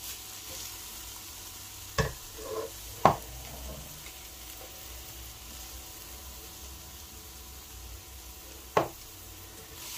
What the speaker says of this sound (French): On va remuer tout ça.